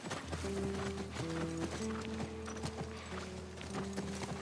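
A horse is ridden in The Last of Us Part I video game, its hooves clopping in a steady rhythmic gait at moderate distance, mixed with low ambient noise and a soft musical drone.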